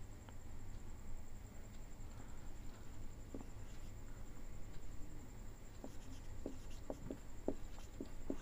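Chalk or pen writing on a board or paper during a physics lesson on light reflection, a faint series of short scratchy strokes, quicker and clustered toward the end, over a steady low room hum.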